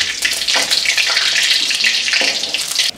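Five-spice seeds hit hot oil for a village-style hilsa fish curry, giving a loud, steady, bright sizzle that holds for about three seconds before suddenly dropping off.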